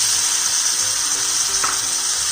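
Chopped tomatoes hitting browned onions in a hot pan, a continuous loud sizzle and hiss of frying with a faint stir or clatter partway through, no talk.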